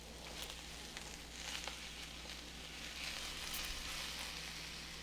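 Cabbage, scallions and noodles sauté for takeout-style chow mein, giving a soft, even sizzle with light crackling pops throughout, fairly quiet and steady with no voices.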